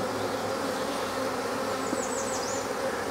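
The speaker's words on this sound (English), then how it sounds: "Yes, we're going to take the bees." Honey bees buzz steadily around open hive frames during a beekeeping inspection, a dense continuous drone of many insects with no talk.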